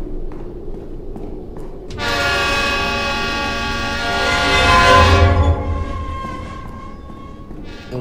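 A train horn blares loudly for about three seconds in a Roblox train game, with a sustained harmonic tone that swells, then fades into the steady rumble of the passing train.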